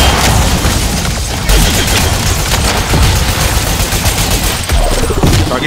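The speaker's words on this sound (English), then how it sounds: "Nade deployed! Let's roll!" Heavy gunfire and booming blasts from a grenade in the video game Crucible, loud and dense throughout, with rapid bursts and deep thuds layered over one another.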